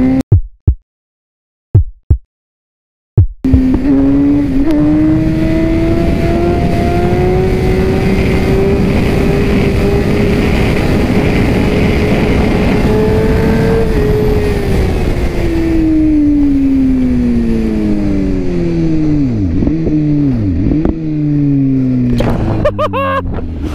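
A Yamaha R1 motorcycle engine revs hard for about twenty seconds, its pitch climbing and falling with sharp throttle blips near the end, loud and close, preceded by a few brief knocks.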